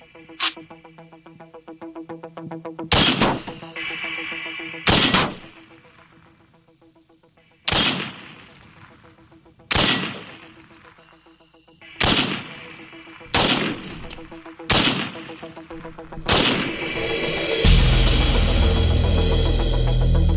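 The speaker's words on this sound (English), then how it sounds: "To leave an impression, I'm going to fire the AK-47." An AK-47 rifle fires single shots at a Dyneema armor target, about nine loud sharp cracks spaced a second or two apart, each with a short ringing tail, ending in a burst of noisy rumble.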